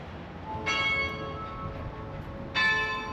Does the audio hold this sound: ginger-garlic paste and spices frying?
no